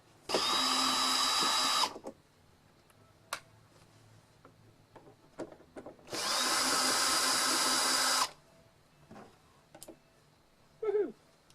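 Two bursts of a power drill backing screws out of a keyboard's casing, each about two seconds long and close by, separated by small ticks and handling clatter.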